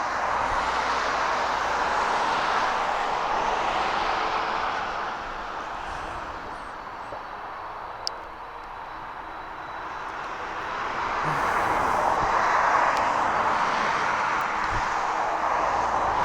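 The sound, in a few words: DHL Boeing 757 aircraft at East Midlands Airport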